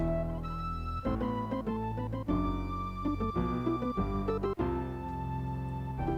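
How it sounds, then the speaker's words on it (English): Continuous melodic Castlevania IV game music with layered synth tones and a steady bass line, playing loudly with no talking and a couple of brief pauses. "Now just listen to that music."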